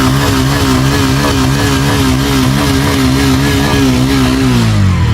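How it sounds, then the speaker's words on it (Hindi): A Bajaj Pulsar 160cc motorcycle engine runs close by with a loud, continuous throbbing rev that holds steady, then drops in pitch near the end, with no voices. "गाड़ी स्टार्ट हो गई है"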